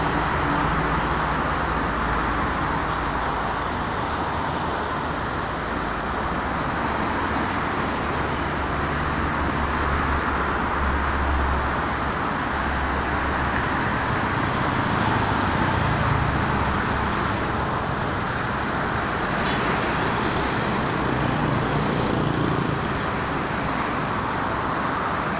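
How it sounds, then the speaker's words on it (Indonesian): Steady, dense road traffic on the Jakarta–Cikampek toll road during the morning commute, many cars, buses and trucks passing continuously in a broad, unbroken roar heard from close by. "Dan ini di atas saya ini jalan. Banyak kendaraan yang berangkat kerja."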